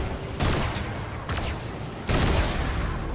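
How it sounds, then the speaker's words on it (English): A big explosion in Fortnite Save the World lands as a series of loud booming bursts, three heavy blasts a second or so apart over a constant rumbling game background. "So there you go, nice big explosion."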